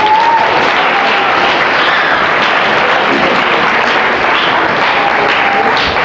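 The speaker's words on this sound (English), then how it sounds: "So give him a round of applause." An audience at a school adoration gathering applauds warmly for a priest, dense continuous clapping from many hands that holds steady throughout with no voices over it.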